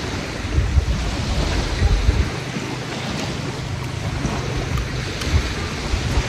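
Sea waves wash continuously against a seashore, with a rough rumble and buffeting wind noise on the microphone and no voices.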